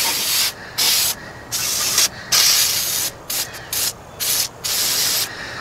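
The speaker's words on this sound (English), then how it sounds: "Spray a little on the other side here while I'm over here." Degreaser sprayed onto a Volkswagen Type-3 engine in a series of loud, close hissing bursts, each lasting about half a second, broken by short silent gaps, with no talking.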